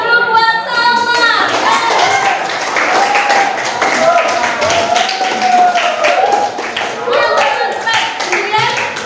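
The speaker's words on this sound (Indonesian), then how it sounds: "Yuk kita kasih aplaus dulu buat Salma." A class of children clapping together for a classmate named Salma, a burst of brisk hand claps at first, then scattered clapping mixed with children's chatter and voices.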